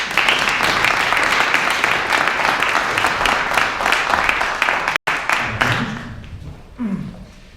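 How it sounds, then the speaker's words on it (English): Conference audience at VR Days Europe applauds a group onstage, a loud dense wash of clapping that continues for about five seconds, then cuts and tapers into scattered claps and low voices. "Big applause for this group."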